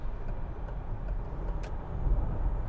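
A 2020 Opel Zafira-e Life electric car with a 75 kWh battery accelerating at full throttle, heard from inside as a steady broad road and wind roar that swells slightly toward the end.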